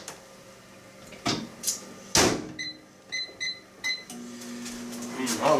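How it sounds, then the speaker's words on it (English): A microwave door thumps shut, followed by a series of short electronic beeps from button presses, then the low hum of the oven starting up. "Back in the microwave for a couple minutes."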